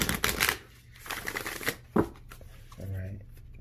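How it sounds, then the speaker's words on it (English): Rapid riffling of a deck of tarot cards being shuffled close up, a few quick bursts of crisp fluttering clicks with a voice briefly in between. "see, one more shuffle. Then we'll cut the deck and go forward."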